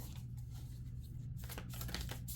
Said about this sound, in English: These are a little bit different for me to shuffle